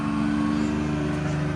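A Gator utility vehicle in a shop setting gives a brief, steady mid-pitched engine drone at moderate distance, with no talking.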